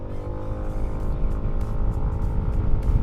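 A Hero Xoom 160 scooter pulls away from a roll at about 25 km/h. The close engine note climbs steadily as it accelerates, with a rough, buzzing exhaust tone.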